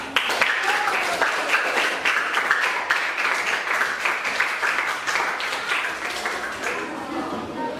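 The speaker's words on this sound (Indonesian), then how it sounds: "kita beri aplaus kepada kelompok 4" An audience in a university teaching-practice classroom applauds group 4, a dense, sustained burst of many hands clapping at close range that carries on evenly for several seconds.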